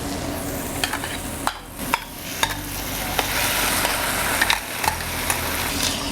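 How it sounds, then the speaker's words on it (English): Lentils being stirred in a hot pan, a steady sizzle with repeated sharp scraping knocks of a utensil against the pan, close and fairly loud. "So the next step, we're going to add the lentils."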